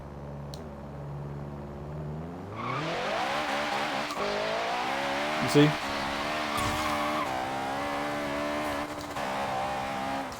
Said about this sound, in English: that's just me full throttling the car all the way down